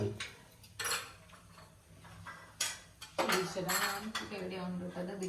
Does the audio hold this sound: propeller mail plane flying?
no